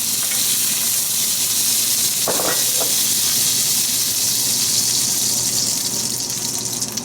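Butter sizzles steadily in a hot pan for blackened catfish, a close, continuous hiss with a brief burst of spattering partway through.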